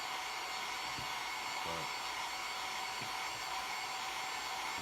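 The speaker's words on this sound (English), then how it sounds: "we're going to hit it with the good old blow dryer" Hair blow dryer blowing on primer paint coating a model head, a loud continuous broadband whoosh running throughout, with a single short spoken word and a few faint clicks underneath.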